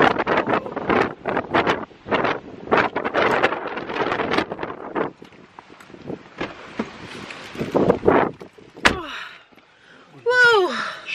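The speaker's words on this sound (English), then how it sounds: "This is how windy it is," Loud gusts of wind buffet the microphone in rumbling bursts while a person talks over them; a sharp bang and a brief high squeal come near the end.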